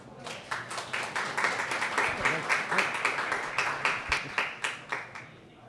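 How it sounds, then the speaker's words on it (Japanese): An audience at a Python conference talk claps in welcome, with individual claps clearly separated in a steady patter that builds, holds, and then thins out toward the end. "それでは尾又さんを拍手でお迎えください"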